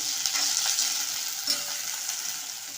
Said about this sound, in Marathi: म्हणून आधी तेलामध्ये थोडीशी परतवून घ्या